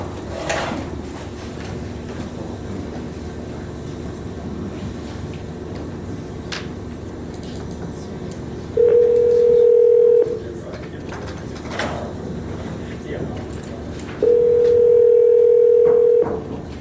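Telephone dial tone sounding in two long steady stretches with faint keypad clicks, as a judge calls an attorney from a courtroom; background room noise, no talk.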